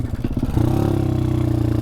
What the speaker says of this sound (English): I'm basically out giving the 160 Super Savage a bit of a test ride since I've done the upgrades